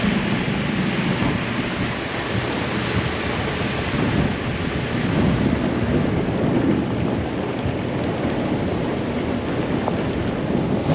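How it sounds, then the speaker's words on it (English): Steady, loud roar of wind and rushing water around a boat, a constant buffeting wash with no letup and no voices. "today we just got nasty weather, raining, windy"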